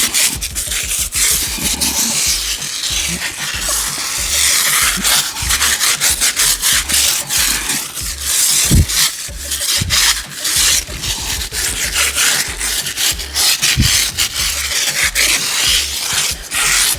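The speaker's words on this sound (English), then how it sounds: "help with agitating the Yum Undress to clean the tires up" Yum Undress tire cleaner scrubbed into car tires with a brush, producing continuous loud, close, rhythmic bristle scrubbing strokes that keep going without a break and without any talking.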